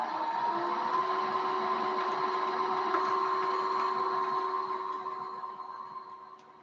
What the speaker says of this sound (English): winding my bobbin.